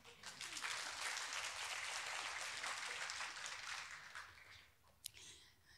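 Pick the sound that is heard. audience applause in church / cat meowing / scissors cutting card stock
audience applause in church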